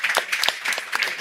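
An audience claps steadily in a hall to show appreciation for panel members, a dense patter of hands at moderate volume that continues throughout.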